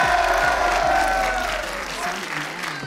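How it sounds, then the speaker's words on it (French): Audience applause greets a player being introduced at an Overwatch 2 launch event, a dense steady clapping that fades slightly toward the end. "Alors je crois que c'est Pocheka, vous pouvez l'applaudir mesdames et messieurs pour l'accueillir."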